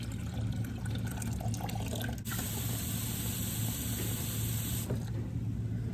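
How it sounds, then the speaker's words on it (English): Water pouring into a pitcher of Southern sweet tea, a steady continuous rushing stream that briefly brightens and fills, heard close and alone without talk. "you're just going to fill up that pitcher now"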